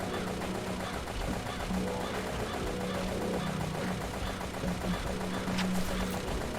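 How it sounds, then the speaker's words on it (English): Gunfire in a video game rattles without a break as a player sprays bullets at enemies, forming a dense, steady stream of rapid shots mixed with other game sounds. "we can literally just sit here and let bullets fly"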